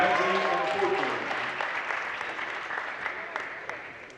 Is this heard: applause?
yes